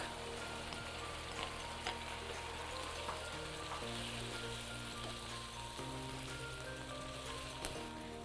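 Cherry tomatoes fry in a pan for a creamy chicken pesto pasta, giving a steady, even sizzle with faint crackles and a few light clinks, with no voices.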